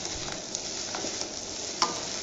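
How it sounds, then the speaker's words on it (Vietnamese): Rice tossed together with cooked baby clams in a pan, a steady soft scraping and stirring close by with faint sizzling, small clicks of the utensil throughout and one sharper knock near the end. "Rồi đảo lên đều"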